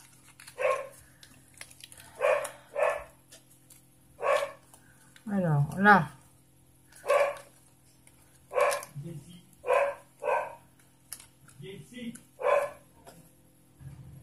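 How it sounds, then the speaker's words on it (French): A dog barks repeatedly in spaced single barks, fairly close, with a brief whimpering yelp in the middle; a person speaks briefly between barks. "il y avait longtemps qu'elle n'avait pas aboyé, l'autre, là"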